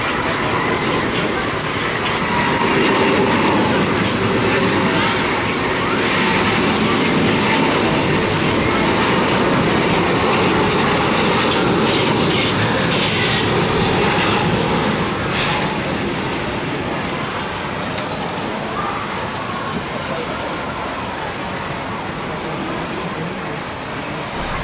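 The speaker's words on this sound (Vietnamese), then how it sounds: "chiếc Airbus A330-300 của hãng hàng không Vietjet Air đang bước vào hạ cánh tại sân bay Tân Sơn Nhất" A Vietjet Air Airbus A330-300 comes in to land on runway 25R at Tan Son Nhat airport in rain, its engine roar a broad, steady wash mixed with rainfall, loud and continuous throughout with no voices.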